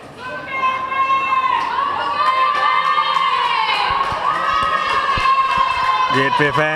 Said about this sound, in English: Gateway fans still cheering wildly.